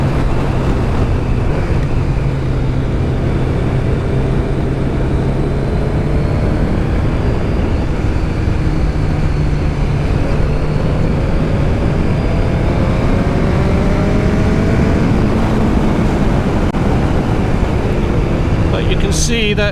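Kawasaki ZZR1100 motorcycle riding, a heavy bike whose steady engine drone and wind roar run continuously throughout, with gear shifts shown as rising pitch sweeps, under faint talk.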